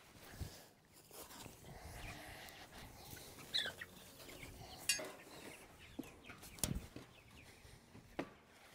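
Chickens in a chicken tractor out on grass, clucking and calling at moderate volume across the clip, with scattered clinks and rustling nearby and no talking.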